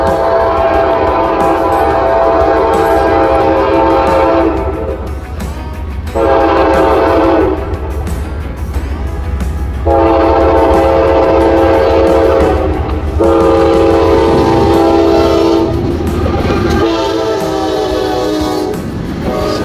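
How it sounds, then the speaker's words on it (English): A large Norfolk Southern freight train passes near the tracks at milepost 470, sounding its horn loud and close in several long blasts. Steady rail rumble and clatter run beneath the horn throughout. "This may be a big train."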